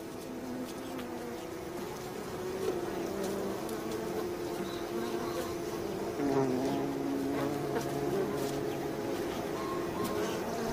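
Bees swarm around a nest raided by a Sicilian lizard, buzzing loudly and close in a continuous drone, with individual wings rising and falling in pitch as they pass.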